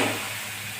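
A thalipeeth made with sour chuka greens sizzles on an oiled griddle, a steady, close, hissing fry heard briefly and alone.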